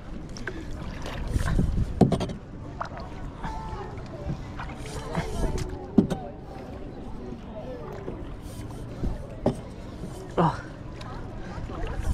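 Paddles dip and splash through the water beside a canoe or paddle boat at a holiday park, in soft, irregular strokes under steady background noise and people talking.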